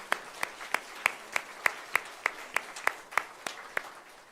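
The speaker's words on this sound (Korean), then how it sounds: "우리 하나님께 영광의 박수를 올려드리겠습니다" Audience at a church prayer meeting clapping in a steady, evenly spaced rhythm, about fifteen sharp claps, moderately close in a quiet hall.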